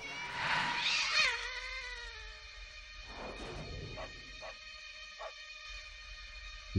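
A cat in Svoboda 1945: Liberation gives one loud, drawn-out meow up close, followed by several shorter, quieter mews spaced a second or so apart.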